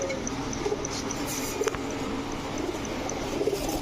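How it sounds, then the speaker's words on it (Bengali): Three female pigeons, a Chuina breed, give low soft coos in short repeated bursts against a steady background hum at a pigeon farm, near and moderately loud, with a few faint scratchy noises between calls. "সব চুইনা, 3 পিস চুইনা মাদি কবুতর দেখেন"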